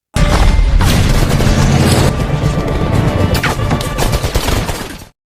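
Small explosions erupt during a night ninja attack scene in a film, loud dense crashing blasts and bangs packed tightly together, continuous and close without pause, with no voices.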